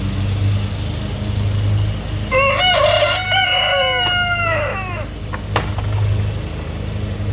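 A rooster crows loudly nearby, one long drawn-out call followed by a short squawk, over a low steady hum.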